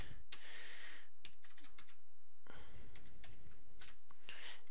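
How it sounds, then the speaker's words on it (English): Quiet, irregular clacking of keys on a computer keyboard, typed in short bursts with small pauses between them. "I'm just going through, like I said, typing these in."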